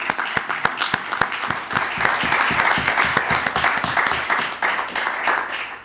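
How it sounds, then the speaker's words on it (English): An audience at the 2013 MIT Water Summit gives a round of applause for summit director Neha Mehta, with individual claps building into dense, sustained clapping that stays loud throughout. "So maybe let's just give a big round of applause for Neha."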